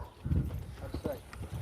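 A horse lopes under a rider, its hooves striking in a soft, quick clip-clop rhythm at moderate distance. A voice talks over the footfalls.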